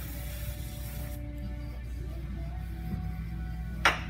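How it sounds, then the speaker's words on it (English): Soot remover cleaner hisses from an aerosol can in a few short bursts, fairly close, followed by quieter handling noise and a brief clatter at the end. "May have to spray it a few times."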